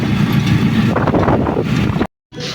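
Steady wind rushing across the microphone, loud and broadband, cutting out briefly near the end before resuming.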